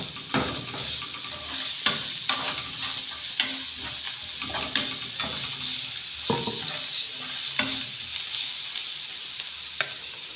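Onions, garlic and ginger with a seasoning cube sizzle in a pan for meat pie filling, a moderate frying hiss punctuated by regular knocks and scrapes of a spoon stirring, with no voices.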